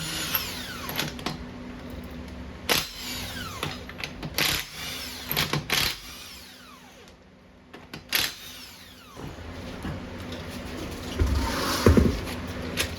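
Removing a wheel from a Toyota Corolla: a power tool whirs in repeated short bursts, with clicks and clanks between them, at moderate distance and fairly quiet.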